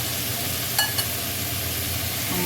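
Tender pieces frying in oil in a pan on low heat, an even, close sizzle with two quick utensil taps near the start and no voices.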